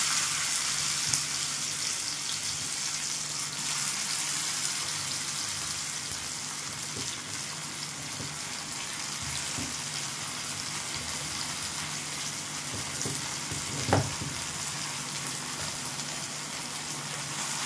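Crushed raw green mango tipped into hot tempering seeds in a pan, giving a soft, even sizzle like light rain that carries on steadily, with one brief clatter of a utensil partway through.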